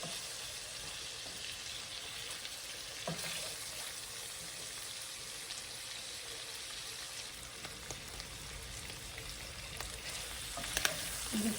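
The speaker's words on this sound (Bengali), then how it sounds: "একটু ভাজা হয়ে গেছে বেশি ভাজবো না তাহলে চিংড়ি ভাগগুলো রাবাতের মতো হয়ে যাবে" Shrimp frying in a pan for a beef and shrimp sizzler with mixed vegetables, a soft, steady close sizzle with occasional stirring clinks and scrapes, no talking.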